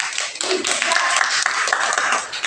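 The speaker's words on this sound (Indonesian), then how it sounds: "Tepuk tangan untuk kelompok 3" Students in a classroom clap for a student group, a brisk burst of close, fairly loud hand claps with a quick uneven rhythm, steady for a couple of seconds with faint voices underneath.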